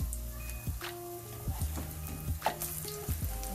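Banana fritters frying in oil in a pot give a gentle, continuous sizzle with occasional small pops and clicks, heard close at low volume over a faint background hum.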